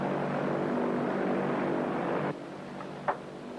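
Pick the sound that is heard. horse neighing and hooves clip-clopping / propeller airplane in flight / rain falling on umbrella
propeller airplane in flight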